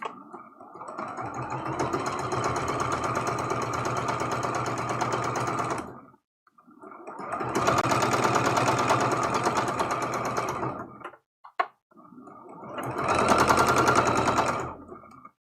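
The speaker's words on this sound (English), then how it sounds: "We're putting those backs together. Keeping it nice and straight. And sewing that seam." A sewing machine stitches a rag quilt seam in three steady, fast runs of rapid mechanical clatter, close and even, about six, four and three seconds long, with short quiet pauses and a click between them.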